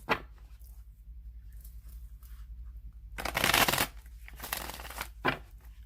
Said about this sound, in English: I'm going to shuffle it 3 more times